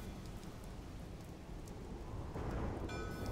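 Steady rain falls in a Batman: Arkham Knight scene, a continuous broadband wash that swells louder toward the end, alone with no talk.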